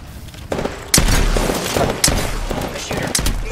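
Gunfire in the video game Apex Legends, several sharp loud shots and bursts arriving at irregular intervals over constant in-game background noise, close and punchy.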